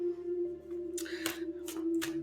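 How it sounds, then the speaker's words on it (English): Starseed oracle cards are shuffled in a few quick papery riffling bursts, close and moderately loud, over a steady low electrical hum. "I'm going to shuffle"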